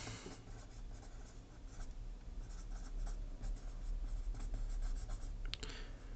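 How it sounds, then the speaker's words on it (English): Faint pen or pencil strokes scratch across paper in short bursts over a steady low hum, with no talk. "but Brunner Battlehammer, we're going to write down"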